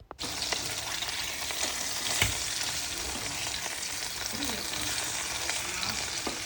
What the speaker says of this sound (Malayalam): കയ്യോടെ ഒരു 2 മിനിറ്റ് നേരം 2 സൈഡും വറുത്തെടുക്കാൻ പോകും